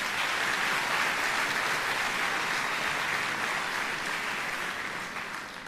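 Sustained applause from a large audience at the Athens Concert Hall during a wind orchestra performance, dense and even throughout before easing slightly at the end, with no talking over it.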